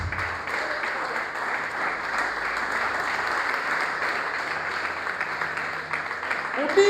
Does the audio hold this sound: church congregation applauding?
yes